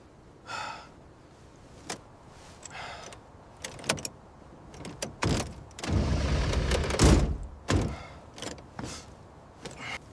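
An abandoned Lamborghini's engine cranks for a second or two without catching, a rough grinding burst surrounded by scattered clicks, knocks and faint breaths in a quiet space.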